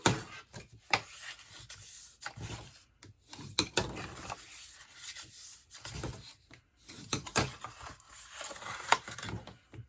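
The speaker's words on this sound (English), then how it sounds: "we're going to fold and burnish all of our score lines" Paper score lines on a flip-top box being folded and burnished, soft rubbing and rasping strokes in short irregular bursts with brief pauses, close and fairly quiet.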